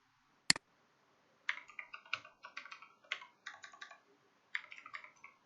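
Code is typed on a computer keyboard in quick clustered bursts of crisp clicks, with a single sharp click before them and a quiet background.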